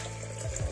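About half a litre of water is poured into a cooking pot for a village-style North Karnataka jowar pundi palya, a soft steady splashing over a low background hum.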